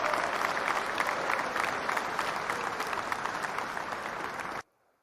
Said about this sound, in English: So we got the applause going early